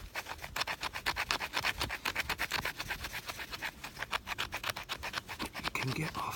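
Rapid scratchy scraping as a knife spine shaves fatwood into curls, many quick strokes close up, with some talking over the rasping.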